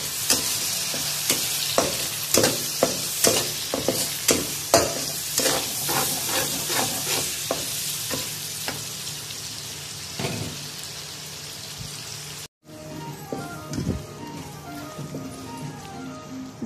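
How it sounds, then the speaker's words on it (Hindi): Peas and carrots frying in a pan for Chinese fried rice, with a steady crackling sizzle under repeated sharp stirring scrapes and taps from a spatula, a brief dropout, then a quieter, finer sizzle afterward. "मटर फ्राई किए, मटर और गाजरे दोनों।"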